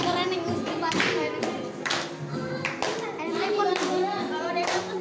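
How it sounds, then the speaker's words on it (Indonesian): Schoolchildren in a classroom clap their hands together in a patterned rhythmic game, sharp repeated claps in groups with children's voices and singing running underneath. "Terus kita akan tepuk tangan keren yang mesti pakai."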